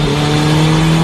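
A car drifts in a racing video game, a steady engine drone with a strong sustained tone and broad tire noise, loud and unbroken, with no voices.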